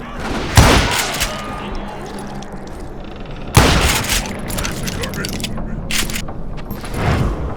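Gunfire in the Western video game Call of Juarez Gunslinger: two loud booming gunshot bursts, one near the start and one mid-clip, with further sharp cracks and scattered clatter between and after.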